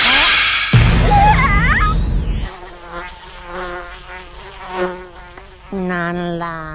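A fly buzzes loudly and close in the One Piece anime, its drone rising and falling in pitch as it darts around, with gaps and sudden swooping passes.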